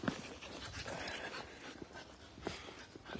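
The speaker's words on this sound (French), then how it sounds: "Le chien qui veut jouer avec moi, avec la laisse." A dog pants quickly and steadily up close during a cold sunny outdoor walk, eager to play with its leash, the breathy rhythm broken by faint whimpers and soft rustling.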